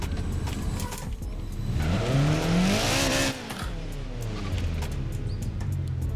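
Car drifting in Forza Horizon 4, tires squealing loudly over a steady engine drone with a rising and falling whine mid-way, continuous throughout.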